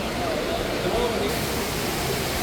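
The world's tallest indoor waterfall at Changi Airport, dropping 40 meters, roars as a steady, loud, broadband rush of falling water that fills the space without a break.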